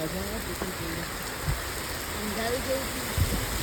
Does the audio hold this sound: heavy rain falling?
yes